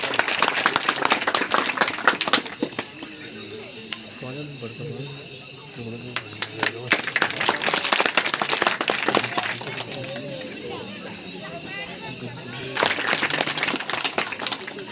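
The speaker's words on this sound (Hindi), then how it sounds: "जोरदार तालियां के लिए।" An audience at a Ramleela club event in Minjgran claps loudly for the chief guest, with bursts of applause at the start, middle and end and a speaker's voice carrying between them.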